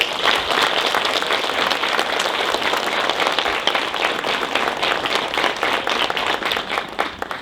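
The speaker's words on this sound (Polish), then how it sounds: "Brawa jeszcze raz dla mnie." Audience applause at a school event in Poland, a lively, fairly loud round of clapping that continues unbroken throughout, with distinct claps poking through the crowd sound.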